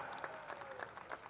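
A gathered crowd at a roadworks groundbreaking ceremony keeps up a short, faint patter of applause, uneven hands clapping at a distance with a little murmur underneath.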